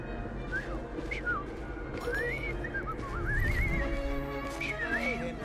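A character in the Assassin's Creed Syndicate video game whistles in short rising and falling tones, then a longer wavering run, over a steady game background of carriage and horse sounds.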